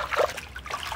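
Tap water trickles and splashes briefly over a whole fish being rinsed before cutting, a short close burst of running water in a home kitchen.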